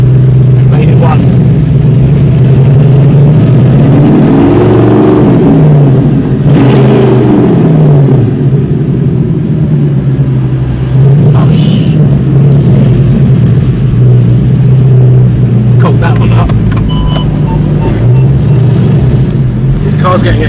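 Audi R8 supercar fitted with an Armytrix exhaust, its engine droning loudly and steadily with a couple of rising revs, heard from inside the car while people talk over it throughout.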